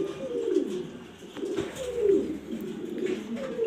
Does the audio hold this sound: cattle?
no